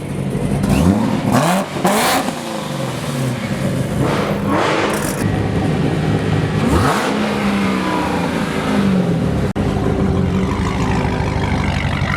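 A modified car engine revs loudly several times at a car meet, rising and falling in pitch, with a steady engine rumble between the bursts.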